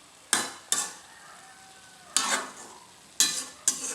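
A utensil scrapes and stirs sautéed pork in an old frying pan in five sharp bursts, with a faint sizzle lingering between strokes, close and without talk.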